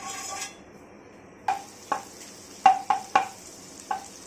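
Butter dropped into a hot kadai for Tamil-style chicken butter masala, giving a few short separate sizzles and pan clinks spread across a quiet kitchen, each burst fading quickly.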